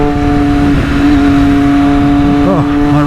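A 2020 Triumph Daytona 765 Moto2 motorcycle engine revs hard and loud and close, its pitch holding high and then dipping and rising again near the end as the throttle is worked.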